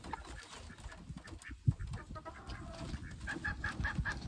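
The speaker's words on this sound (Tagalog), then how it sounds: "Dito may nakakulong na isang tandang." A caged rooster and brown chickens cluck in short, irregular bursts at a moderate distance, with faint background noise and no talk.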